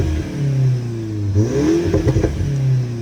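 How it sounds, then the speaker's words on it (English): A Seat Cupra 290 engine revved while stationary, rising and falling in smooth sweeps with no pops or bangs on the overrun, steady idle drone between blips, loud and close. "And if you're gonna rev the car, there's no pops and bangs."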